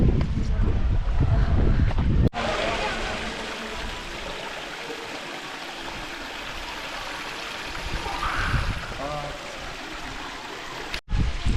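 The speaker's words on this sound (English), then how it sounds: "There's a waterfall up here. It's only tiny, but it's cool." Steady rushing water from a tiny waterfall near Malham Cove, Yorkshire, fills the scene, a broad hiss like a small cascade nearby, with wind buffeting the microphone at the start and end.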